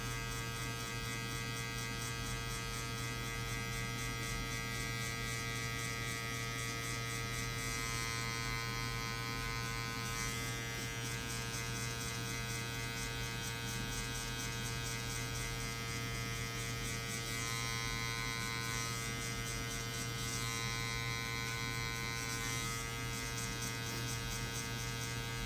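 Electric hair clippers buzz steadily and continuously while cutting a mid taper, a close, sustained motor drone with slight shifts in tone as the blade moves through hair, no talking.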